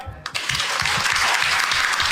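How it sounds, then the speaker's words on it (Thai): Applause breaks out after a short quiet start and carries on as a dense, loud clapping wash from a seated audience at a cannabis law forum, with a voice faintly underneath. "ขอเสียงปรบมืออีกครั้งครับ"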